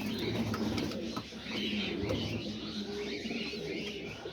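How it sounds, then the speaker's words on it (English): Pigeons coo softly in a backyard pigeon loft on a rainy day, their low calls half-buried in a steady wash of rain and outdoor noise. "He looks like one of my younger male pigeons."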